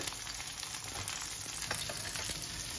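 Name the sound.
mashed garlic sizzling in pan with frying sea bream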